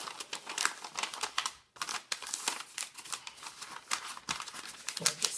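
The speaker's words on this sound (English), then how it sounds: "Make a nice crease through the top." Wrapping paper crinkling and crackling as it is folded and creased around a gift box, a close, busy run of sharp rustles and crisp snaps with a brief pause partway through, no voices.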